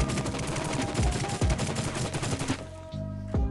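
AK rifle fired on semi-auto in the Rules of Survival video game, a quick run of sharp, evenly spaced shots with low booming thumps, loud and close, ending in a couple of separate final shots.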